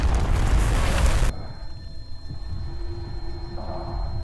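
A bomb blast in an action film booms loudly and briefly, then gives way to a low rumbling aftermath with a faint hum.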